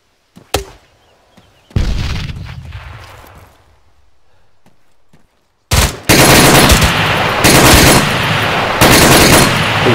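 Close, loud gunfire from the video game ArmA 3 during a co-op mission in Kunduz, Afghanistan: a single sharp shot, then a short burst, a pause, and sustained rapid automatic fire that fills the final seconds.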